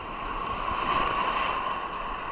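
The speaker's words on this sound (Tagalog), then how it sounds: "Grabing lalaking alon." Large ocean waves off the coast of Palawan, Philippines, a steady broad roar of surf and wind rushing without pause, close and fairly loud with no voices.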